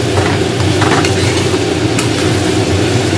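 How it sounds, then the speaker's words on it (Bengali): Kitchen chimney exhaust hood running overhead above a stove, a steady loud fan hum with a layered drone, mixed with light frying and stirring of potatoes in a pan. "আওয়াজ হচ্ছে, তার কারণ মাথার উপর চিমনি চলছে"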